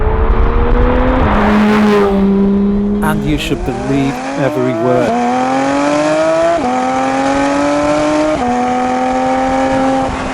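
A Porsche GT3 RS with Weissach Package engine revs up through the gears, rising in pitch with sharp shifts, loud and close, while someone talks over it.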